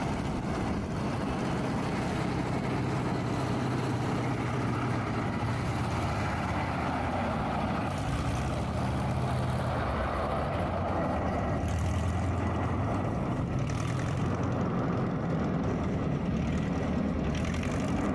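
A homemade light propeller plane's engine roars loudly and steadily throughout, a broad droning rumble as the aircraft powers up and takes off.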